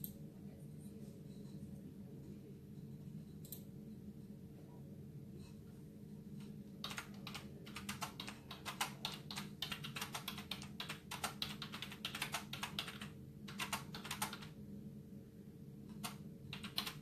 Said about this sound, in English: Just typing a message to Brenda, see if we can get her in here.